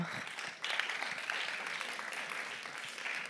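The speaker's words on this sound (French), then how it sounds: "On l'applaudit très fort" Audience applause at an awards presentation of nominees in media education, a steady wash of clapping that swells slightly after a brief dip and stays fairly distant and soft.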